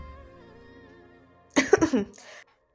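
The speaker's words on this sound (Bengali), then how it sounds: "এর ভিতর কারো কাশির আওয়াজ শুনতে পেলাম।" A person coughs a few times in a quick burst of harsh, throaty hacks close by, following a quiet stretch with a low background hum.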